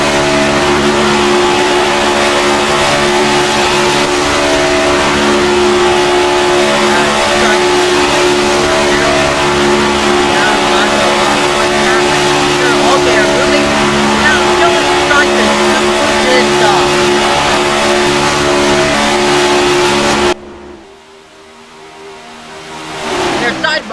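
Onboard a stock race car at Daytona during the Coca-Cola 300, with a loud, sustained engine roar holding a steady high pitch for about twenty seconds before a sudden drop and a rising surge, with race commentary talking over it.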